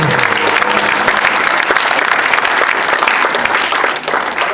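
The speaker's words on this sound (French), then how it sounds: "Tu peux acclamer bien aimé." A church congregation cheers and applauds at a Christian youth conference, giving dense, loud and sustained clapping with crowd noise that continues without a break before easing slightly near the end.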